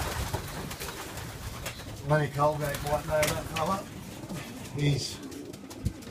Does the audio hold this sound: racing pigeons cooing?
yes